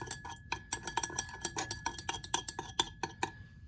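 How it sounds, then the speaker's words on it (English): A glass stirring rod clinks rhythmically against the glass vessel while stirring a heated copper solution, a quick series of bright taps of uneven strength over a faint steady hum. "We're going to stir with a glass stirring rod and continue heating until a solid appears in the solution"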